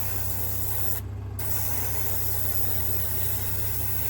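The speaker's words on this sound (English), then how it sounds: "I'm doing it with an airbrush because I've got one" Steady airbrush hiss as paint is sprayed on a model railway piece, with a low motor hum underneath, briefly cutting out for a moment near the start before resuming.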